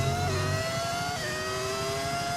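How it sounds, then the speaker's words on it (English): A Formula 1 car in the F1 25 racing game, a V6 fitted with a sound mod, roars steadily with a high sustained engine tone that shifts pitch slightly as it revs, loud and close with no talk. "It's just a sound mod. The actual engine's still a V6, of course."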